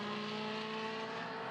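A McLaren race car engine held at high revs on the track at Lime Rock Park, a steady, dense, loud drone with strong harmonic tones and no talk over it.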